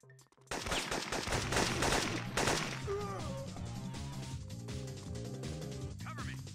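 Gunfire rattles in the Syphon Filter video game: a sharp burst of rapid shots opens the scene, then steady repeated weapon fire continues under a layered game soundtrack, with occasional spoken game dialogue.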